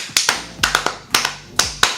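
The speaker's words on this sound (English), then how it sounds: "That was like such a fast clap" Hands clap in quick bursts, several sharp claps in small clusters of two or three with short gaps between them, close and loud with no talking.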